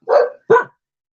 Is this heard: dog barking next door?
yes